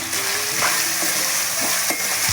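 Tomato frying with a ginger-garlic-coconut paste in a pan, a dense close sizzle broken by a few scraping strokes of a spoon stirring the mixture, with no speech.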